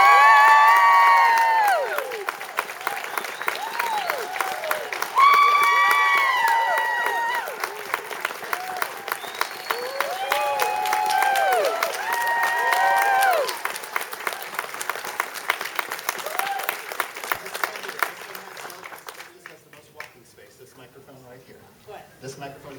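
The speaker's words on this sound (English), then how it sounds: "Ladies and gentlemen, please stand and get a round of applause to Miss Barbara Eden." Loud audience applause and cheering, with whoops and shouts, at a Lexington Comic Con 2024 Q&A welcoming actress Barbara Eden; the dense clapping runs steadily for about twenty seconds before thinning out at the end.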